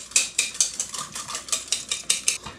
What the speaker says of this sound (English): let's use a whisk to get that mayonnaise fully incorporated